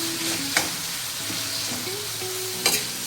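Tomatoes cooking down in a pan for tomato rice, a continuous close sizzle with two sharp scrapes of a spatula stirring, heard alone without talk.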